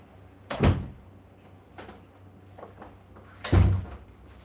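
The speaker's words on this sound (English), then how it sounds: "let me close this door real quick" A door being closed in a room in Hong Kong, with two solid thuds about three seconds apart and a softer knock between them, close and moderately loud over a low steady hum.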